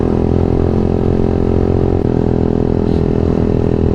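Motorcycle engine held at a steady, loud idle-to-rev drone for the full four seconds, close by, with a low throbbing rumble and no voices over it.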